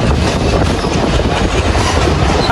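A crowded local train runs on rails between Faridpur and Pangsha in Bangladesh. A loud, constant rumble and rattle of wheels and carriages fills the space from inside the train, with no pause.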